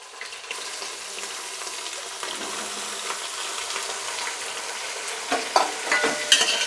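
Onions, radish and eggplant fry in a little oil in a pan while being stirred, a steady soft sizzle with scraping spatula strokes and occasional sharper clinks toward the end.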